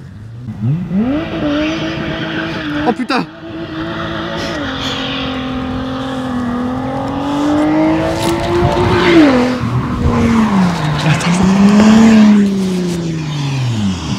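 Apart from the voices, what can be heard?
race car doing a standing start, tires skidding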